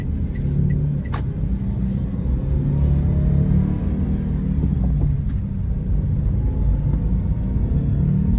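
A car arrives outside an apartment at night, its engine a low steady rumble close by, with a few faint clicks and knocks over the continuous drone.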